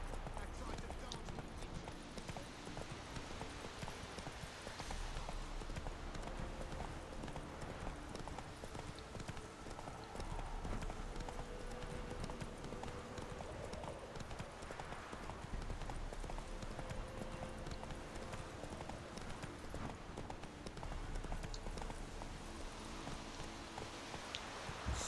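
Horse hooves clip-clop at a steady walking pace in The Witcher 3, faint and continuous, with game dialogue talking over them throughout.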